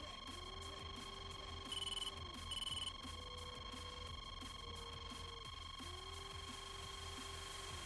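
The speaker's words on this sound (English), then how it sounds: "One thing with this game is you got to get used to a lot of beeps and noises." Short electronic beeps sound in two quick bursts over a constant droning engine hum and tonal cockpit-like whine in the flight simulator game DCS.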